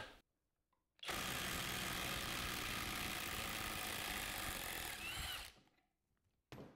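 Ryobi cordless 1/2 inch impact wrench in nut busting mode, running loud and continuous for about four and a half seconds, then winding down into quiet.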